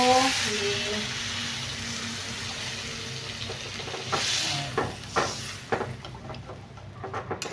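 Water poured into a sizzling egg and potato curry in a village kitchen, a loud steady hiss and bubbling that settles as stirring scrapes and clinks follow, close up.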